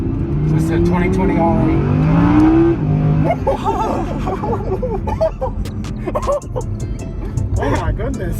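A 2020 Audi R8 sports car accelerates hard on a test drive. Its engine roars up in pitch close by, then settles into a steady drone while people inside talk over it.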